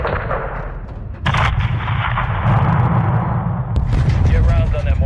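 Gunfire and explosions from a Call of Duty: Modern Warfare II campaign battle are aimed at a mortar crew. The shots and booms are dense and continuous, loud and near.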